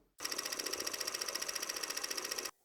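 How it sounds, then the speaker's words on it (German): A screw is backed out of a Begadi Army Armament R17 Gladiator airsoft rifle with a steady, rapidly pulsing mechanical buzz that starts abruptly, runs for about two seconds and stops cleanly. "Wir lösen einfach diese Schraube hier."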